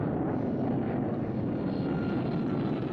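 A steady, droning engine hum from a small airplane circling in flight, heard from inside the cabin, continuous and even for the whole span with no voices.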